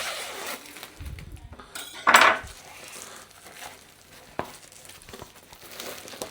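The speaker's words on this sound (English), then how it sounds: "Straight out of the box, straight on the tray." An Italian cotto ham pizza is pulled from its cardboard box and set on a metal baking tray: soft rustling and crinkling, then one sharp clanking clatter and a few lighter knocks.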